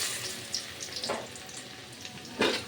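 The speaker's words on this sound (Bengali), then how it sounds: "রসুনটাকে ভালোভাবে ভেজে নেব।" Minced garlic sizzling in hot oil in a pan for vegetable fried rice, a steady close frying hiss with brief stirring scrapes and louder spits.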